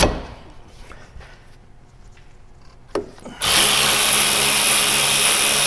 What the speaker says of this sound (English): I even found an electric ratchet